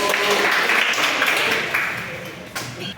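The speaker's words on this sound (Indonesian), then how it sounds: "Tepuk tangan." Classroom group claps briefly and unevenly, a short scattered round of hand clapping mixed with voices talking over it.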